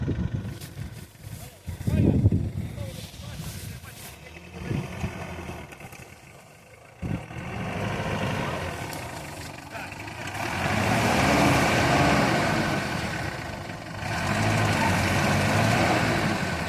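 A car engine runs and idles during a driving practice session, a low rumbling drone that swells and eases as the car moves, with voices talking over it at times.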